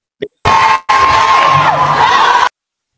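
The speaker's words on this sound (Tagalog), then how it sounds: "Pakinggan nyo po yung mga sumisigaw." A large crowd shouts and cheers loudly in bursts, a dense roar of many voices with a sustained chant-like tone, cut off abruptly after about two seconds.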